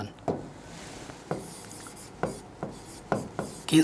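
Pen strokes drawing lines during a Class 10 maths lesson, a few short scratchy sweeps spaced apart, close and fairly quiet with no talk over them.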